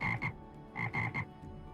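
A frog croaks in the distance, a few rough clustered croaks in two short bursts separated by a pause, moderately loud and alone with no talking.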